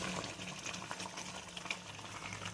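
Potatoes boiling in an uncovered pot after the lid is lifted, a steady soft bubbling and gurgling of water, close and fairly quiet, with no talk.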